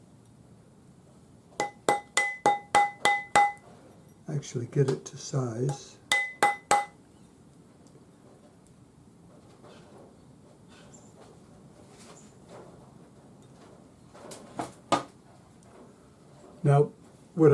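A rawhide hammer taps a balled wire ring on a steel ring mandrel, starting around size P: two quick bursts of sharp, ringing strikes, then sparse knocks later, with a voice talking softly in between.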